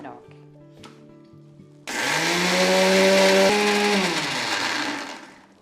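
After a few seconds of voices, an electric mixer grinder roars to life grinding roasted sesame seeds into a coarse chutney, a loud whining whir holding steady for about three seconds before spinning down.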